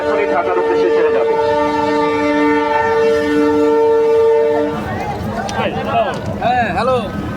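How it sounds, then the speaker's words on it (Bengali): Sirajganj Express train leaving a station bound for Dhaka, with a long steady horn blast over rumbling rail noise, followed by a few shorter wavering tones and voices near the end. "সিরাজগঞ্জ এক্সপ্রেস ট্রেনটি এখনই ঢাকার উদ্দেশ্যে ছেড়ে যাবে।"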